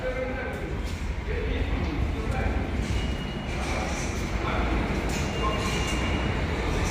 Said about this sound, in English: You can hear the subway.